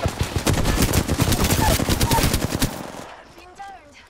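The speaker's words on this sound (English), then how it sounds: "Shot at my back." Rapid automatic gunfire rattles in dense bursts during an Apex Legends match, loud and close for about three seconds before cutting off, with faint voices and chirping game sounds trailing after.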